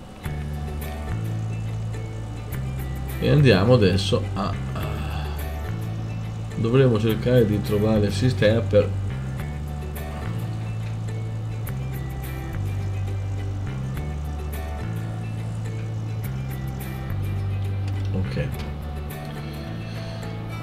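In the video game Gold Rush, a vehicle engine hums steadily at low pitch, its drone stepping up and down through gear changes, while someone talks over it in bursts.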